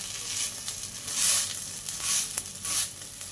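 Drumstick leaf fritters fry in hot oil with a continuous close sizzle and light crackling, swelling as they are pressed flat with the bottom of a glass, with no talk.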